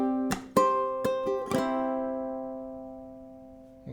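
Ukulele plucks a short phrase of a melody, a handful of bright picked notes and chords in quick succession, then the final chord rings and slowly decays.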